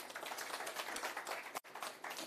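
A crowd at an outdoor government visit by a transport deputy minister claps steadily, a dense wash of applause that continues for a couple of seconds with one brief dip.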